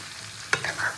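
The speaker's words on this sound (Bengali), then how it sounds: "এবার খুব ভালো করে মশলার সঙ্গে চিকেনটাকে কষিয়ে নেবো" Chicken stir-fried with ground spice paste, a brief scrape of a spatula followed by light sizzling, close and quiet.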